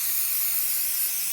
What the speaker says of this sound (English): I use 505 spray, and I'm just going to give it a quick little